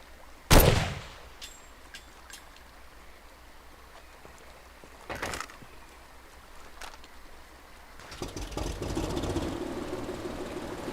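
Gunfire in the video game Far Cry 2: a sharp, loud shot opens, a second report follows a few seconds later, and a rising burst of noisy rumble and crackle fills the end, all without talk.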